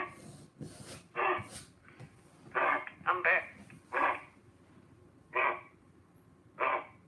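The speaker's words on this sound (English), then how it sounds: "Oh, come on, dog." A dog on a live stream barks and whimpers in short bursts, about seven over several seconds, moderately close, and a person speaks briefly between them.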